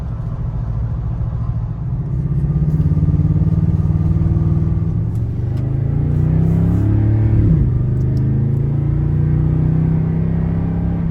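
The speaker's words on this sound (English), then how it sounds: "the sound of this truck never gets old" A 2019 or 2021 Toyota Tundra TRD Pro pickup engine idles with a deep, steady rumble, then revs up and settles back, heard close and loud throughout.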